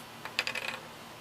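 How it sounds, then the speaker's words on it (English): A cleaver chops through apples in an outdoor off-grid kitchen, giving a short flurry of light, crisp taps close by with no voices. "the cleaver, just put it up, chop, then use a knife"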